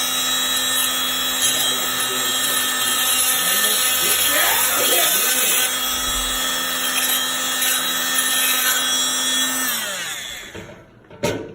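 A power tool cuts down the flange of a kitchen sink strainer with a continuous high, buzzing whine, with grinding noise underneath, before it winds down and stops, leaving a brief clatter.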